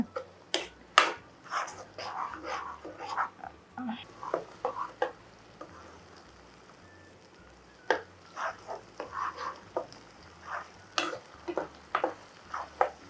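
Spinach curry sizzles softly in a pan as a spoon stirs it, with intermittent scraping and clinking strokes over a low steady frying hiss, fairly quiet and close, with no talking.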